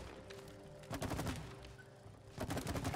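Rapid bursts of gunfire from a multiplayer video game, loud and close, with dense rattling volleys coming in two clusters separated by a brief quieter stretch.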